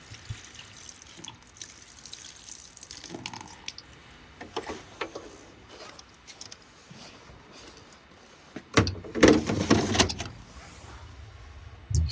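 Condensed water from a tumble dryer's collection container is tipped out, starting with scattered drips and clunks of handling, then a loud gushing pour near the end, close by and with no speech.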